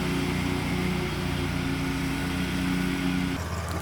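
A Wright autonomous lawn mower runs in self-driving mode, its engine giving a steady, fairly quiet drone with a low rumble, with a sudden shift in tone just before the end.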